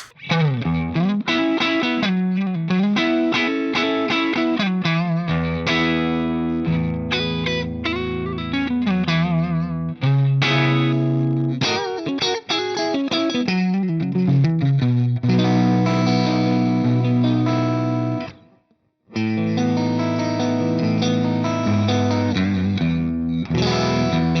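Electric guitar through a Splawn Nitro amplifier on the clean channel, gain low, played steadily with ringing chords and melodic runs, close and full, with one short break near the end.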